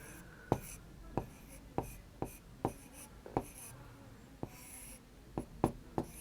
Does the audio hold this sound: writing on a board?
yes